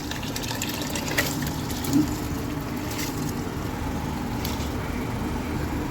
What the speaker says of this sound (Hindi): तो चावल जो है हम पानी समेत इसमें ऐड करेंगे।